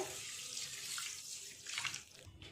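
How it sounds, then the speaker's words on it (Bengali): Basmati rice for biryani being rinsed under running water, a steady close splashing and gurgling wash with faint swishing as the grains are stirred, no talking. "বিরিয়ানির চালটা খুব ভালো করে 3-4 বার জল পাল্টে পাল্টে ধুয়ে নিয়ে আর ভিজিয়ে রেখে দেব।"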